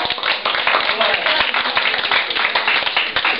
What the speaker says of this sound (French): On applaudit notre artiste.